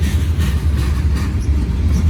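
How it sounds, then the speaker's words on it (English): A freight train halted by a hot box axle fault rumbles steadily nearby, a deep continuous low drone with faint rail clatter and no talk. "That's the train that broke down the hot box."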